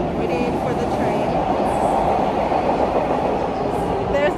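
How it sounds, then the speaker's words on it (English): Subway train pulling into an underground station, a loud steady rumble and rolling roar filling the platform throughout, with faint voices in the background. "There's the train."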